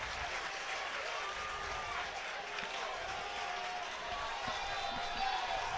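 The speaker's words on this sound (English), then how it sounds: "this crowd has just found their voice again" A college baseball crowd at an Alabama versus Jacksonville State game cheers and applauds in a steady roar, with a commentator speaking over the noise.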